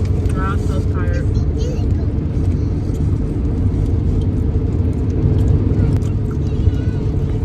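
A car cruises on a long road trip, its engine and road noise forming a steady, continuous low drone inside the cabin, with faint voices early on.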